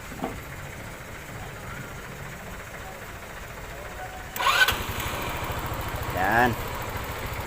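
A Rapid 150 motorcycle engine cranks and starts partway through, then settles into a steady close idle with a brief rev, after a stretch of quiet background noise.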